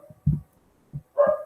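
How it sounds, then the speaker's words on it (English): An excited pet dog gives a few short, quiet barks and yips indoors, with brief gaps between them and a slightly longer final yelp. "My dog is very excited."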